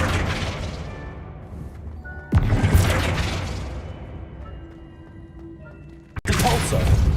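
Spell effects cast in Hogwarts Legacy, two sharp booming impacts each followed by a decaying whoosh and rumble, loud and close against ambient game sound.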